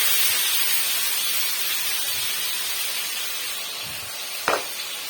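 Ground spice paste hits hot oil for a Bengali taro stem dish with prawns, giving a steady broadband sizzle and hiss throughout with one brief sharp spatter near the end, no voices.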